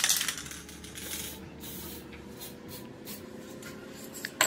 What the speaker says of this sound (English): so I shake it out and then I spray a bit more.